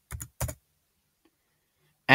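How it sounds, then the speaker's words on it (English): Typing 'Philips' into a search box on a computer keyboard: two quick bursts of key clicks close by, then quiet until a voice starts speaking at the end. "in the search box just start typing Philips."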